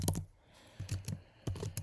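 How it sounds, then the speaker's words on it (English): Typing on a computer keyboard, short bursts of sharp clicking keystrokes close up, separated by brief pauses, with no talking. "Why is my typing off today?"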